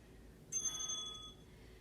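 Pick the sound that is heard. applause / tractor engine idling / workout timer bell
workout timer bell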